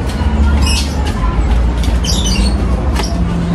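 Shrill bird squawks and chirps come in short bursts over a loud, steady rumbling background noise.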